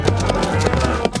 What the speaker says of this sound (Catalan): Aquest és un cavall Clydesdale i una vaca.